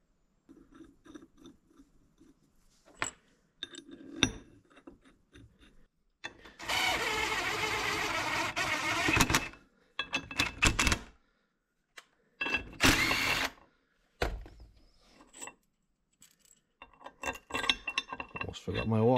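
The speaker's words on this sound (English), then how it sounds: "we're going to drop our bolts in and see how much we have to cut off" Metal bolts, 4-inch and a bit long, drop and clink into a shop-made crankshaft alignment jig in a workshop, giving sharp metallic rattles and scraping bursts with quiet gaps and occasional faint talk.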